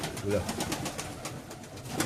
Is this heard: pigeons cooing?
yes